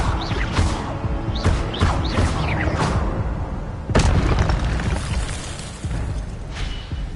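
Game combat with repeated spell casting in Hogwarts Legacy, the Incendio fire spell among them: a dense, continuous wash of bursting, whooshing blasts and fiery crackle, with a sharp loud impact partway through, all close and loud.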